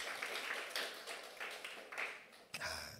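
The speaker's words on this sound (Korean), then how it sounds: "박수 한번 쳐주세요" Applause from a church congregation at a Sunday worship service, a steady wash of clapping from many hands, moderately distant and fairly faint, fading near the end before a short louder burst.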